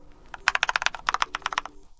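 Quick, close typing on a Keychron K2 keyboard with lubricated switches: a steady run of soft, muted keystrokes, evenly paced and alone.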